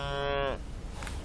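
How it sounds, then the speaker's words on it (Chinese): A calf moos once, close and clear, while being fed, the low drawn-out call ending abruptly and followed by quiet farmyard background. "哇，这小牛好可爱。"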